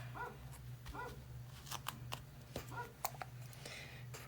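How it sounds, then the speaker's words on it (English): A small dog barks in short bursts, somewhat distant and fairly quiet, under a steady low hum with faint scraping and shuffling noises nearby. "it's gonna be a bark fest."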